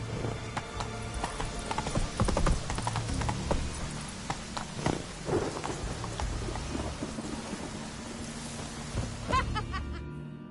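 Roach, a horse in The Witcher 3 on PS5, gallops with steady, loud clip-clop hoofbeats close by, mixed with heavy rain and rumbling thunder throughout.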